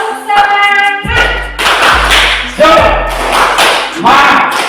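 A group of participants at an Indonesian teachers' module session performs the rhythmic tepuk semangat clap, loud patterned bursts of claps and thumps in repeated phrases, with voices joining between beats.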